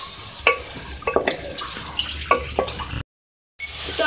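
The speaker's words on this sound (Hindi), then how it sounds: "अब इसमें उसको थोड़ा सा पानी ऐड कर रही हूँ 1/2 कप।" Half a cup of water poured into a pan of cubed potatoes being cooked, a splashy watery trickle with a few clinks, broken by a short silent gap before the pouring noise resumes.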